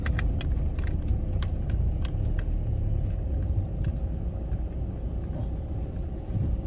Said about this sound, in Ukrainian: Отака машина мене обігнала.